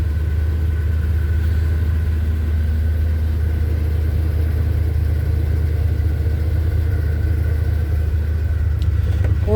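A 1978 Chevy C10 pickup with a new 1406 carburetor idles after a cold start, giving a steady, loud low rumble that holds evenly throughout with no talking.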